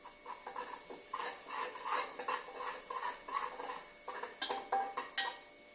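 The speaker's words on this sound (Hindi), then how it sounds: "तो इसको हमने हिलाते रहना है।" Onions being stirred in a pan over a high flame, with repeated scraping and rubbing strokes of a utensil against the metal in a steady rhythm, close and moderately loud, with a few sharper clinks near the end.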